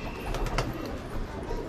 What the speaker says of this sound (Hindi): ओए कबूतर गिर गया, कबूतर गिर गया